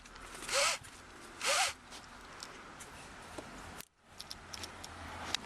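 Seatbelt webbing is pulled out of the retractor in the rear seat of a 2005 Chevy Equinox, giving two quick zipping rasps close by, followed by faint ticks and light rattling.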